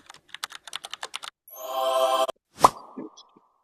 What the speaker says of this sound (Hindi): क्लिक का साउंड इफेक्ट लगा देंगे।